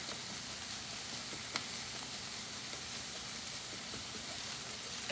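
Garlic hitting onions in a pan for braised green lentils, giving a steady, even hiss of frying with a faint crackle now and then, quiet and unbroken, with no voices over it.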